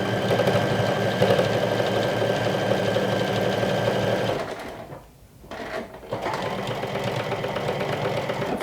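A sewing machine stitches a chest pocket on a lumberjack shirt, a steady close mechanical whir that breaks off briefly near the end while the fabric is pivoted, then starts again.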